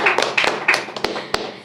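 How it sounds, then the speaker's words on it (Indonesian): A few podcast hosts clap their hands in a small room, giving a handful of sharp, close claps in an uneven rhythm, with brief voiced sounds between them. "Tepuk tangan dulu dong."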